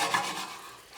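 Spaghetti in amatriciana sauce bubbling at a high boil in a pan while being stirred, a brief close scraping and sizzling swirl that eases slightly toward the end.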